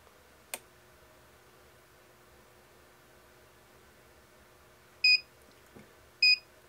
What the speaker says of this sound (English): Once the timer beeps, I usually wait just about a second or two